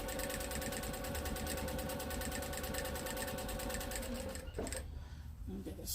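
A sewing machine runs steadily and close, top stitching a tote bag with a fast, even mechanical chatter, then slows and stops near the end.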